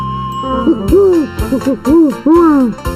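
Cartoon owl hooting in a children's programme, several loud, close, swooping hoot calls in a quick irregular series over a faint musical backdrop.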